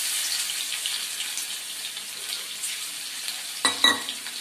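Crushed garlic and ginger with bay leaf hit hot oil for a Malvani-style crab curry, giving a steady close sizzle that swells into a sharper, louder spitting burst near the end.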